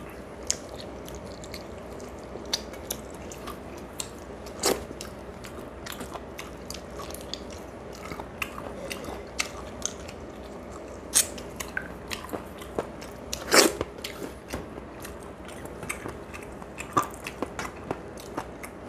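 Close mouth sounds of someone eating rice with dal, fried fritters and chicken curry, with scattered soft crunches and bites over a quiet background and no talking.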